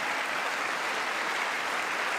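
Audience applause during a political speech: a dense, steady wash of clapping that stays even throughout, with no voices above it.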